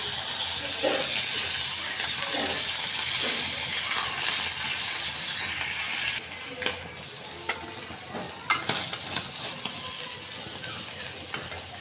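Onions frying in a pan, giving a loud, continuous hiss and sizzle that drops in level partway through, followed by scattered clinks and stirring sounds, with no speech.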